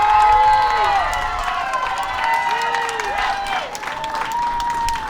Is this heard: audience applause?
yes